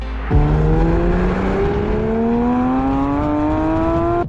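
A race car at Circuit Paul Ricard accelerates hard onto a 900-metre straight, engine pitch climbing steadily through a gear change, loud and close with a constant onboard roar and no talking.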